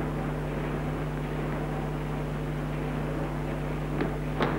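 Aircraft approaching in a 1943 wartime convoy film: a steady low propeller drone over a constant hum at sea, with no talking.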